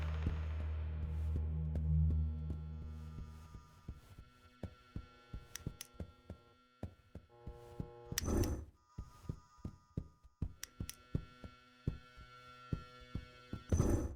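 A vacuum cleaner hums low and steady in a horror video game, then fades into a run of sharp clicks and knocks with two louder bursts, with no talking.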